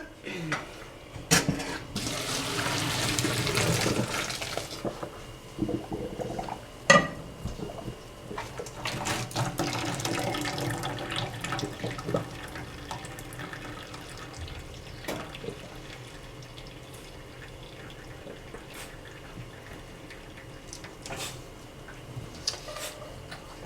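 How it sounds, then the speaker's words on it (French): Cooked pasta is drained in a kitchen sink, a burst of rushing water followed by a second pour, with clattering of pots and utensils and occasional talk in between. "je vais pouvoir égoutter les pâtes"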